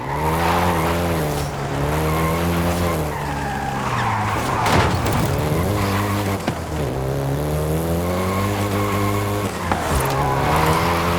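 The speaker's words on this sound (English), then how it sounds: "including the Golf GTI you're driving right now" A Volkswagen Golf GTI in Forza Horizon 5 skids and squeals its tires through corners. The engine drone rises and falls continuously with loud, close tire screeches and no talking.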